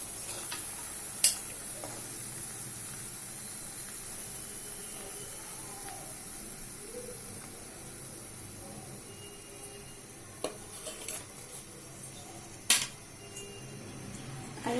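Mug pakon pitha fry in oil with a soft, continuous sizzle and hiss, broken by a few faint clinks of a utensil against the pan, close and without voices.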